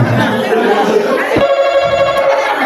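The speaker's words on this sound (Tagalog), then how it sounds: "Telepono pa lang to?" A telephone rings under steady background talk during a question-and-answer game show, the ring sounding as a sustained tone through the clip and chattering voices continuing around it.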